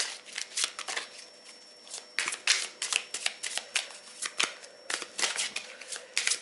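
A deck of playing cards is shuffled by hand before a card reading, giving a series of crisp riffling and slapping bursts in an uneven rhythm, close and fairly loud, with no talk over it.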